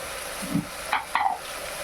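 Okra pieces are stirred in a frying pan over a steady hiss of sizzling oil, with a few short scraping strokes of the spoon near the middle and no talk.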